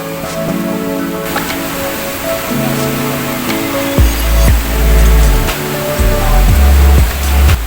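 Steady rushing water fills the scene, a broad continuous roar like a waterfall at Rishikesh, India, with low tonal hum and thumps layered over it.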